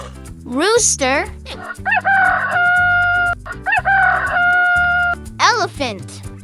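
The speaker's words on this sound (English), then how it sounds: "Rooster." A rooster crows several times in loud, drawn-out cock-a-doodle-doo calls, with a few rising clucks at the start and end, all over a cheerful children's music bed.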